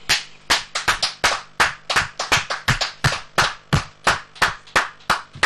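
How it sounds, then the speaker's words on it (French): A live studio audience claps in bursts of applause on a French variety show, the sharp hand claps loud and close, coming in quick uneven clusters with no talking over them. "On applaudit."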